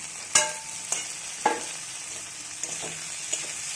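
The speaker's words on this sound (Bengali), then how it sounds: "আরও 5 মিনিট মতো সাঁতলাবো।" Gentle sizzle of onions, tomatoes and potatoes sautéing in a pan, punctuated by several sharp scrapes and clinks of a spatula stirring at irregular intervals.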